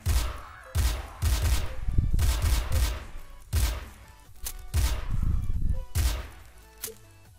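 Rapid bursts of gunfire from Garry's Mod, several loud volleys with thuds separated by short pauses, loud and close with no talk.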